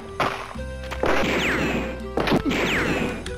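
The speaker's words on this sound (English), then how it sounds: "There's so much gunfire happening in here." Gunfire in the video game Alone in the Dark 2: heavy impacts crash and thud twice in close succession, with a sharp whooshing sweep after each and a low hum underneath.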